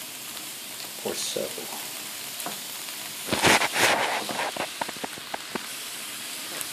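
Noodles for pancit bihon frying in a pan with a steady sizzle and hiss, swelling into a louder burst of spitting and crackling midway before settling back to a low fry; a voice speaks briefly over it.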